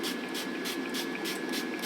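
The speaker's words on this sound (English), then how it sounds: "And I'll give them on that side a quick spray." Fry Light virgin olive oil spray misted onto chicken fillets, a soft hissing spray repeated in quick short pumps, close and fairly quiet with no talking.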